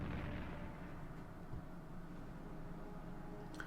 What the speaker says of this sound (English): That was the artillery.